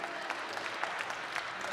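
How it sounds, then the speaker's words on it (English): Applause from a forum audience at a mayoral candidates event on equitable development and affordable housing, a steady, moderately faint patter of clapping lasting under two seconds with no voices over it. "Let's give her a round of applause"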